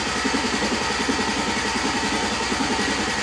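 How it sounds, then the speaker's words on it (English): A Chevy truck engine with a misfire cranks over steadily, a close, continuous rhythmic churning with fast pulsing that holds loud and even throughout. "listening to it crank over"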